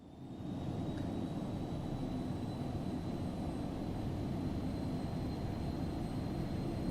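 Cessna 172 piston engine at full throttle in the X-Plane 12 flight simulator, a steady, loud droning roar with constant low rumble that holds unchanged for the whole stretch, with no talking.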